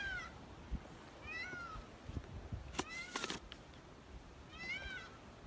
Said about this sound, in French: il y a Cacahuète, c'est le perroquet. C'est lui qu'on entend depuis tout à l'heure